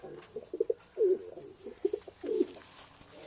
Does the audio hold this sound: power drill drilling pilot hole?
no